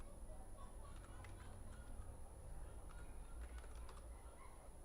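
Steady typing on a computer keyboard while entering data into an Excel VBA spreadsheet linked to an Access database, with rapid close key clicks over a constant background hum and no voice over the keystrokes.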